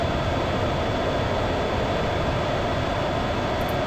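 Jet plane engine from the VR flight game Dawn of Jets, a steady, even roar with a constant high whine running throughout, no voices.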